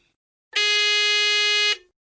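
A quiz contestant's phone gives a single bright, harsh buzzer tone, loud and steady for just over a second before stopping, with near silence around it.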